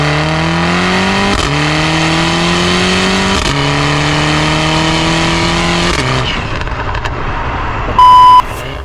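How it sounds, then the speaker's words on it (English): A loud, throaty 450 hp tuned Mercedes-AMG GLA45 with a Capristo exhaust holds steady revs with sharp rises and dips, then drops off into a rumble as a short electronic beep sounds near the end. "It's also running a Capristo exhaust and it sounds absolutely insane."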